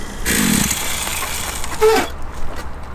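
A cheap two-stroke pit bike engine from Temu revs up close by with a raspy, buzzing drone for about two seconds, then drops away abruptly into quieter background.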